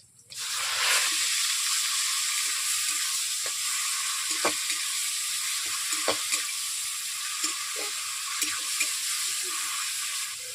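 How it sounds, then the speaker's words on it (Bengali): A paste of onion, tomato, ginger and garlic hits a hot kadai with a sudden loud sizzle that settles into a steady frying hiss, broken by occasional spoon scrapes and pops, close and without speech. "পেঁয়াজ, টমেটো, আদা, রসুন একসঙ্গে পেস্ট করে রেখেছি, ওতে কড়াইতে দিয়ে দিলাম"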